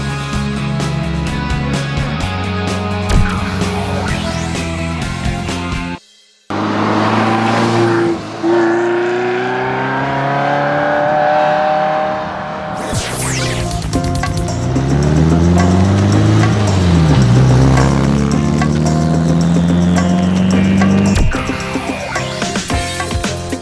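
1972 Fiat 850 Sport Spider with a 903 cc engine driving, loud engine revving rising and falling through gear changes, with a short break and shifting pitch sweeps as it accelerates nearby.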